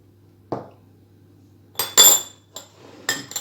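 A spoon clinks and scrapes against a bowl while spices such as dried parsley and cumin are mixed into cheese, giving a few sharp, separate metallic knocks in an otherwise quiet room.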